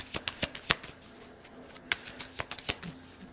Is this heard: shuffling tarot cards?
yes